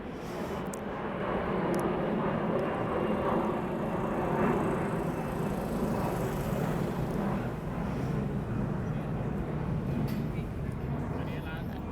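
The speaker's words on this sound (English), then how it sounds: "There was a plane going over me." An airplane passes overhead, a broad, steady roar of engine noise that fills the whole stretch with a gentle swell and fade.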